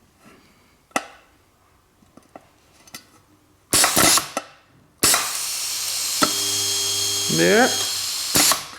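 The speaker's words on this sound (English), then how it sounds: "Now I'm going to bring it up close so you can see it welding." A DIY electronically controlled automated pneumatic spot welder welds metal, starting with a few sharp clicks and taps, then a loud burst and a long, steady buzzing roar. A single brief spoken word comes through near the end.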